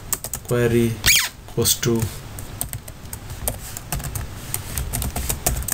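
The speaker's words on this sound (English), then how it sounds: "now let's type the query posts" Rapid keystrokes on a computer keyboard while a PHP database query is entered, clattering in bursts of clicks, with someone speaking briefly over the first part.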